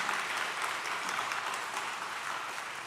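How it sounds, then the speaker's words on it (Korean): A church congregation at a Korean ordination and installation thanksgiving service bursts into loud, sustained applause, a dense, even wash of many hands clapping close by without talk. "우리 다시 한번 큰 박수로 축복하도록 하겠습니다."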